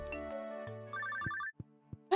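A telephone rings in the video game Stardew Valley, a bright electronic ringtone of repeating trilled tones that sounds clearly and alone before a few soft game clicks.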